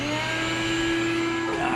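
A big orange wet/dry shop vacuum runs steadily in a workshop, giving a loud, even motor whine with a strong constant hum and no pauses or speech.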